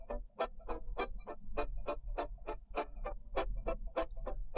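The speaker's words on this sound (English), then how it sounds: "I think it's more ukulele than anything else." A dry, unprocessed ukulele part with no compression, EQ or reverb, played as a steady run of short, percussive plucked strums, about four per second, close and clear with nothing else underneath.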